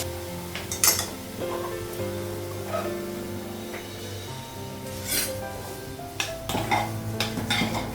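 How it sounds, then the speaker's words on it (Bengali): A kadai wok being washed, with clinks and knocks of metal, scraping and splashy handling that come and go irregularly over a low hum, close and without speech. "এই কড়াইটা একটু ধুয়ে নেবো"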